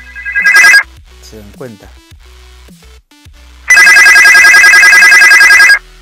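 Phone ringtone sounds loud and close for an incoming call to a virtual US number app: a short burst, then a brief spoken remark, then a sustained two-second electronic ring.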